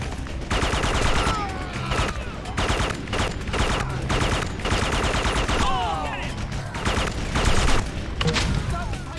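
Dense bursts of gunfire from the Xbox shooter Red Faction II, sustained automatic volleys and repeated shots that stay loud and near throughout, with a voice speaking over the shooting.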